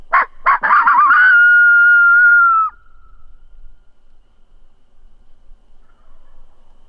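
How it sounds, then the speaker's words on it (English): A wild turkey gobbles once, loud and clear, a rapid rattling call that trails into a sustained note before stopping abruptly, followed by quiet outdoor stillness on a wooded ridge. "Did they gobble at the same time?"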